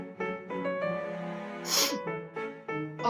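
A single loud cartoon sneeze bursts out midway through a stretch of bright background music, sharp and close.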